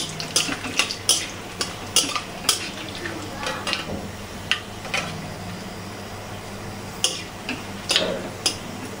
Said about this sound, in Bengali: লঙ্কা আর তেজপাতা ফোড়ন দিয়ে লাল লাল করে ভেজে নেব